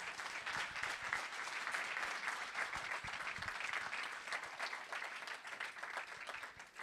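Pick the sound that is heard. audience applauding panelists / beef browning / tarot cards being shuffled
audience applauding panelists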